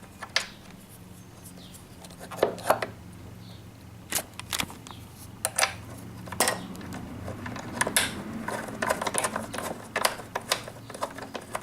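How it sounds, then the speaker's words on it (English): Sharp metallic clicks and ratcheting taps come at irregular intervals as bolts are undone on a Honda CBR600F PC41 motorcycle during a spark plug change, close and fairly crisp over a low background hum. "removing these two bolts"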